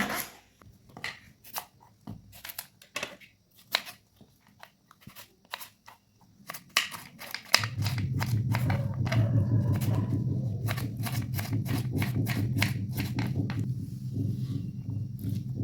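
A knife chops cucumber finely on a board, first in scattered crisp taps, then in a steady fast rhythm of close, dry cuts over a low background hum.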